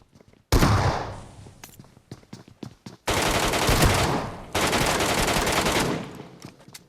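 Gunfire in the mobile shooter PUBG Metro Royale: sharp single shots and short bursts give way to long, loud stretches of sustained automatic fire, close and dominant.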